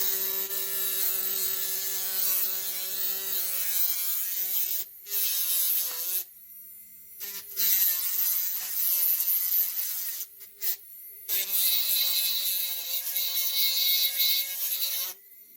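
A Marathon K35 micro motor rotary tool working wood: a high, steady whine that keeps dipping and cutting out in short gaps as the bit bites, loud and close throughout.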